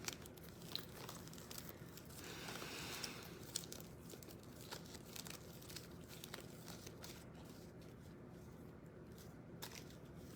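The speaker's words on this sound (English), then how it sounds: "Just want to shuffle the Hebrew cards." Faint, close papery crinkling and riffling as a deck of Hebrew cards is shuffled, with steady soft rustles and a few sharper snaps over a quiet background.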